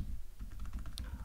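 Computer keyboard typing while filling in a text field on a web form: a short run of light, quick key clicks, fairly faint over a low background hum.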